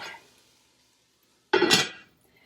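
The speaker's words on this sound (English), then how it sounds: "Cover with our lid" A metal lid set onto a cooking pot: a faint knock at the start, then after a pause a single bright clattering clank as the lid lands and rattles briefly into place, close and alone.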